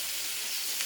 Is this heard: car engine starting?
no